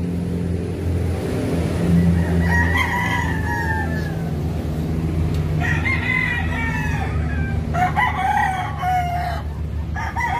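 Boston gamefowl roosters crow repeatedly on a game farm, loud drawn-out calls near and farther off, over a constant background rumble of engine noise and clucking.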